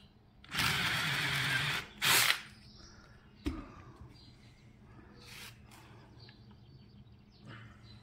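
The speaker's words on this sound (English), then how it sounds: "And then I'll drill it the rest of the way" A power drill boring into an old wooden barn beam whirs in two loud bursts, followed by a sharp knock and quieter scraping and handling noises, with no voices.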